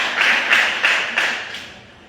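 A church congregation claps in unison during worship, about four strong rhythmic beats spaced evenly, each a ringing group clap that fades into a quieter tail at the end.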